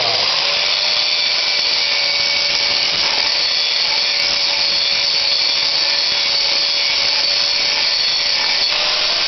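An angle grinder runs continuously on a metal panel being ground to size on a 1986 Jeep. The whine is loud, steady and close, holding an unbroken high-pitched tone throughout.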